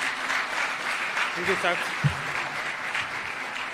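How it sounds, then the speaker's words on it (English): An audience claps steadily as the Kenyan President arrives, a sustained wash of applause throughout, with someone briefly speaking a short phrase near the middle. "Let's clap for him as he comes"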